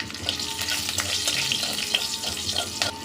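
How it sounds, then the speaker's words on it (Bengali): Green chillies fry in hot oil with crackling nigella seeds as the tempering for a Bengali hilsa curry, giving a steady close-up sizzle with sharp pops and spatters throughout. "কালো জিরেটা ফুটে গিয়েছে, এবার দিয়ে দিচ্ছি কাঁচা লঙ্কা।"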